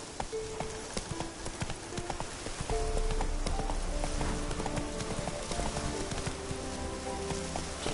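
Hooves of a horse in The Witcher 3: Wild Hunt clip-clop in a steady rhythm, growing denser and faster midway, with a constant background ambience and no talk.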